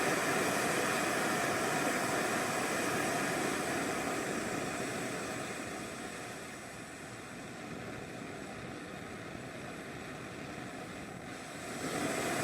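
A British Military No. 12 stove burns on its supplied jet with a steady, loud broadband roar that dips slightly midway and swells again near the end, with no voices.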